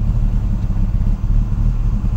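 Audi S2 engine running at a low, steady idle after exhaust repair, a continuous deep rumble with a slightly uneven pulse, close and fairly loud.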